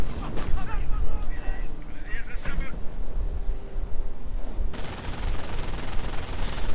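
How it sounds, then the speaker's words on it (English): Machine gun fire rattles in a World War II strategy game among other battle noise, with a commentator talking over the rapid bursts. "MG opening up right there on the rifleman"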